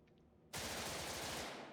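Sudden burst of rapid automatic gunfire in a PvP video game, loud and continuous after a quiet start, sustained to the end with no talking.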